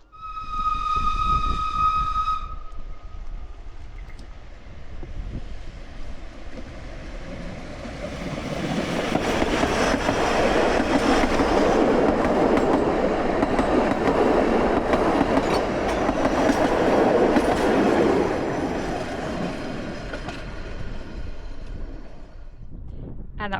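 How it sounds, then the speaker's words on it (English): A steam train passing Ronaldsway Halt on the Isle of Man: a short whistle blast, then a rising rumble and clickety-clack of carriages growing loud as it goes by and slowly fades. "And that was the steam train."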